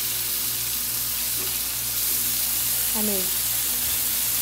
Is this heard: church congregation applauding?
no